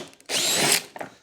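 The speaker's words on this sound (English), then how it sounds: "we are going to have to drill out the holes in the engine cover" A power drill with an 8.5mm bit bores out stripped bolt holes in the engine cover of a Victa two-stroke lawnmower, one close, loud, high-pitched whine lasting about half a second, then stopping.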